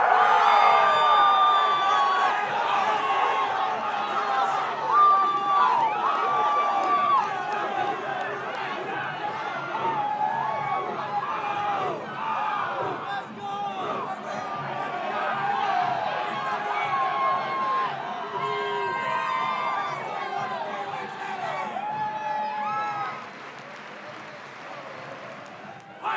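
Stadium crowd cheering for the Ohio State marching band, a broad, sustained roar of shouts and applause with an announcer's voice over it.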